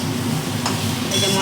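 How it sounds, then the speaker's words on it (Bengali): Spices fry in a pan, giving a continuous close sizzle with a brief scrape or clink of a utensil partway through. "যে মশলাটা ভাজা হয়ে গেছে"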